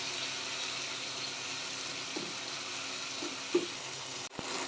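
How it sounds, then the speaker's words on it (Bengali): Ground cumin, coriander, turmeric, chili and salt frying with ginger and garlic in a pan for matar ghugni, a soft continuous sizzle with a few light stirring scrapes and a clank near the end. "মশলা কষা হয়ে গেছে"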